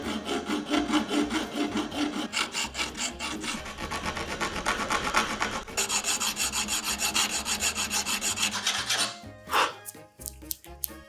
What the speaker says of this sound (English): I'm not using the grinder. I'm using this metal file.